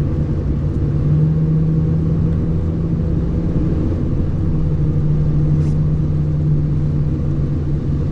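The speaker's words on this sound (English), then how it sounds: "once you actually get past 60 miles an hour, then the car actually starts pulling quite decently" Steady, loud engine and road rumble inside a 2010 Honda Civic LX-S as it pulls past 60 mph, a continuous drone with a faint rising tone and no speech.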